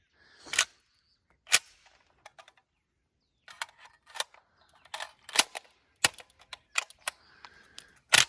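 Metallic clicks and clacks as a magazine is swapped on a Spanish CETME LC rifle after stovepipe jams, a sparse run of sharp, close mechanical snaps with gaps between them and no talking.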